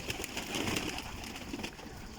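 Pigeons cooing softly inside a loft during a bird-illness period, a steady low murmur of calls with faint rustling and occasional wing movement, close by, with no voices.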